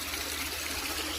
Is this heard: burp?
no